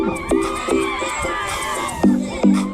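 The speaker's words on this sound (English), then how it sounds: "A round of applause, ladies and gentlemen, as we welcome the Drua" An audience cheering and whooping at a University of Fiji event welcoming the Drua canoe project, with bursts of shouts and loud whistles over crowd babble.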